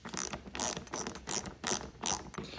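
A ratchet tightens a washer and nut on a bracket behind the bumper of a Nissan 370Z during a DIY canard install. It gives four or five quick, close bursts of sharp clicking, with brief pauses between the strokes.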